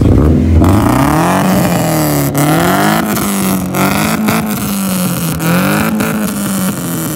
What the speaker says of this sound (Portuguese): O carro tá gritando, hein?